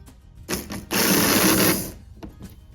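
A postwar Lionel toy train engine motor whirs up loudly for about a second as power reaches it, a steady mechanical buzz with brief clicks before and after.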